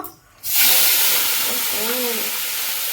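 Whole cardamom, clove and cinnamon hit hot oil in a home kitchen pan, erupting into a loud, steady sizzling hiss after a brief quiet start, with a voice faintly talking underneath.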